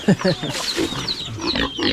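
A sow named Puti grunts and squeals in a series of loud, close, harsh vocalizations over about two seconds.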